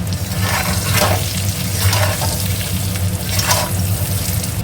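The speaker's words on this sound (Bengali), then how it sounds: "সেদ্ধ করে রাখা আলুগুলোও দিয়ে দিলাম আলুগুলোও একটু ভাজা ভাজা করে নেব" Boiled potatoes frying in hot oil during a duck egg biryani preparation, a loud, dense continuous sizzle with occasional bubbling surges, close up and without voices.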